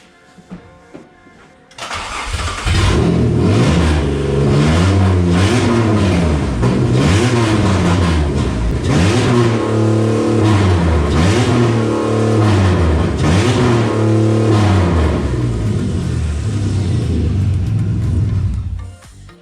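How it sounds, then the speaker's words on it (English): A Camaro's 3800 V6 engine cranks and starts, then revs repeatedly in rhythmic swells, rising and falling several times at close range before cutting off abruptly. "I present to you for the last time in this car, the 3800 V6."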